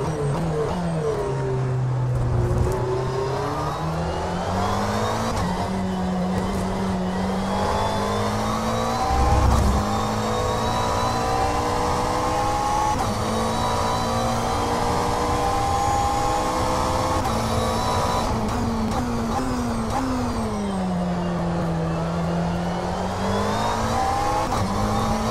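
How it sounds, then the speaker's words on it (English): GT3 race car engine in a racing video game, a steady loud drone with rising and falling pitch as it revs and shifts through gears, sustained throughout with no talk. "Watch your mirrors, there's a car approaching."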